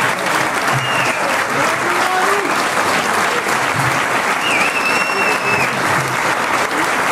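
A crowd applauds loudly after a milonga tango dance performance, a dense, sustained clapping that fills the whole stretch with no pause, with faint voices calling out beneath it.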